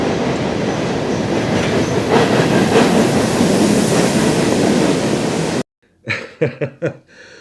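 A freight train with engines and coal cars passes close by in West Virginia, a loud steady rumble of wheels and rail clatter that cuts off abruptly, followed by a few sharp separate knocks.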